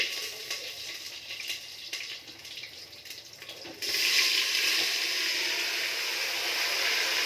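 Chopped bottle gourd drops into a hot pan with cut onions, and a steady hiss swells suddenly into a louder, continuous sizzle that carries on evenly to the end.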